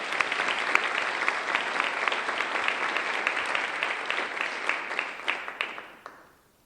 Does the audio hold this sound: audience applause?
yes